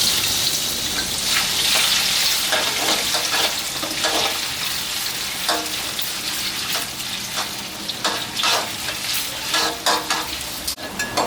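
Shiitake mushrooms frying in oil left from frying fish maw, a loud, busy crackling sizzle that pulses as the pieces are stirred and shifted, with a sharp clack near the end and no speech.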